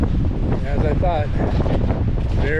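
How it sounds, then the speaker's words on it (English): Strong wind roars steadily into the microphone on a snowshoe trail to Finch Lake in Wild Basin near Allenspark, Colorado, a loud, constant buffeting with a voice speaking over it. "very windy"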